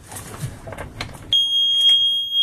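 A boat engine alarm starts abruptly partway through, a steady piercing electronic tone held loud and continuous after a stretch of quieter background noise.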